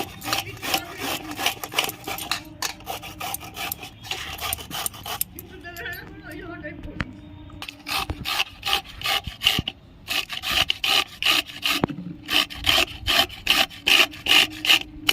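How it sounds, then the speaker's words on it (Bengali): Carrots grated by hand for carrot halwa, with fast rhythmic rasping strokes close up, a short pause in the middle, then steady grating that resumes louder and more regular. "গাজরটা এবার আমি ঘষে নিচ্ছি"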